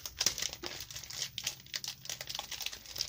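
Paper crinkling and sticky tape being pulled and torn while a handmade card is assembled, a close, busy stream of rustles and small crackles with no talking.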